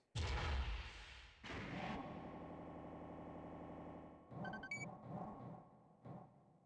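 Enemy gunfire in the video game Armored Core: a heavy boom, then a second blast that rings into a sustained droning tone, and later a cluster of sharp electronic impacts and beeps, all fairly quiet.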